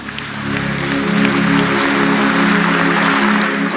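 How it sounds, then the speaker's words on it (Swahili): A congregation applauding graduates during a Kikuyu church service, a loud sustained wash of clapping with a tonal hum underneath. "Makofi kwao."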